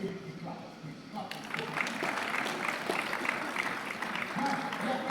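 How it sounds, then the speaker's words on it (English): Audience applause in a university lecture hall at Covenant University, as undergraduates break into sustained clapping that swells after a spoken prompt and carries on to the end. "One more time, give it a clap. Please clap."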